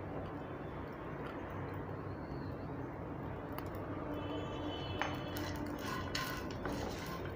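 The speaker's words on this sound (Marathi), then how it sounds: "कोथिंबीर पण ह्याच्यात परतून घेऊया" Coriander being stirred and sautéed into a pavta (field bean) and potato curry in a pan, with a steady low sizzle and soft scraping, a few light clinks of a spoon against the pan toward the end.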